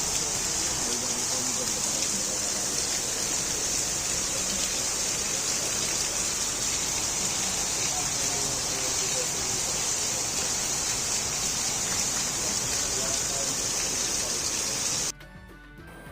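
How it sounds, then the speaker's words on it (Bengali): Heavy rain falling outdoors in Munshiganj, Bangladesh, a dense, even hiss of downpour that holds steady and loud for the whole stretch before dropping off abruptly at the end. "প্রচণ্ড তো বৃষ্টি হচ্ছে"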